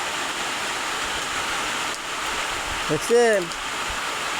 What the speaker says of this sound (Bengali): এই যে আমার এদিকে বৃষ্টি শুরু হয়ে গেছে